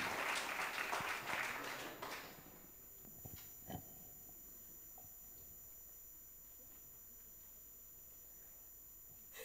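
An audience at an evening literary prize event in Olbia bursts into applause to welcome performers; the clapping is dense and close for about two seconds, then quickly dies away into a quiet room with a few faint knocks.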